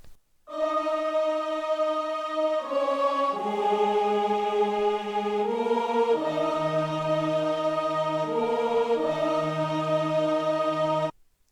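Sampled choirs from the Sonatina and X Band libraries in FL Studio sing sustained, smooth chord tones that shift in slow steps, a soft, steady pad alone for about ten seconds before cutting off.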